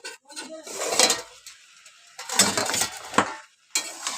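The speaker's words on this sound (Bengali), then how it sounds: "একটু নাড়িয়ে চাড়িয়ে নিলাম, হালকা জলও বেরিয়েছে" Vegetable curry with a hilsa fish head being stirred in a pot: two bursts of scraping and clinking of a spoon against the metal, close and fairly loud, separated by a short quiet gap, no talking.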